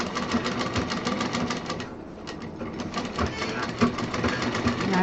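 Sewing machine stitching fabric for a folding tour bag, fast rapid needle chatter running continuously with a brief slowdown midway, close and fairly loud.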